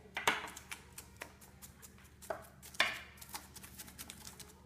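Kitchen knife chopping onions on a cutting board for Chinese dumplings: a quiet series of sharp, irregular taps and knocks, some closer together, heard alone at close range.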